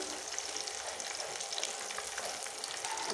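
Chopped onions and garlic fry in hot oil in a pan, a steady close sizzle with faint crackles throughout and no voices.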